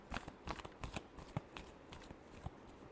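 Tarot cards being shuffled in a final pass, a quick series of crisp riffling flicks and soft slaps close by, with no voices.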